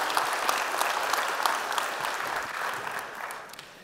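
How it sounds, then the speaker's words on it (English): A church congregation gives a hearty round of hand clapping, a steady dense patter of many hands that gradually fades toward the end. "Let's give the Lord a great big hand clap as you grab a seat."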